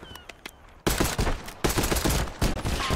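Video game gunfire in a Black Ops 6 prop hunt match: a few isolated shots, then dense bursts of rapid automatic fire and crackling volleys, loud and close, continuing for several seconds.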